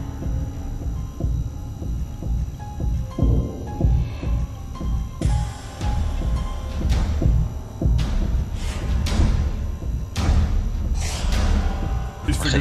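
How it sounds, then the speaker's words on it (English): A steady, low thumping heartbeat throbs in The Backrooms video game, a repeating pulse of close, dull beats with a low hum and sharp game noises over it. "So keep getting close to the heartbeat and then it just disappears."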